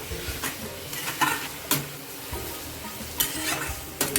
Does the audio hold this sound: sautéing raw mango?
yes